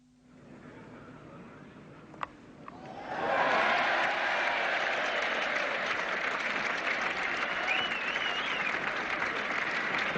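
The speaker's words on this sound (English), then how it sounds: "And quite deservedly that got a cheer." Crowd at a 1978 New Zealand versus England test cricket match breaking into loud sustained applause and cheering for a stroke, rising sharply after a quiet start and holding steady to the end, with faint commentary under it.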